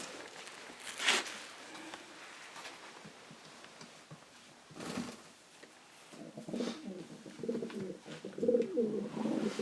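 Janssen-line racing pigeons coo softly in a loft, low throaty calls rising toward the end, with light shuffling and scattered bumps in between.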